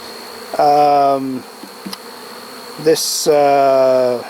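Bees at a hive during an inspection buzz loudly and close, in two sustained droning bursts separated by a short gap with faint knocks and a brief hiss.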